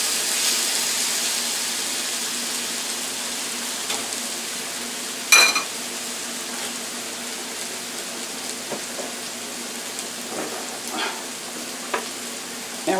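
Hash browns with potato, eggs and cheese sizzle on a grill in a steady, even hiss, with a few sharp scrapes and clicks from a spatula and no talk.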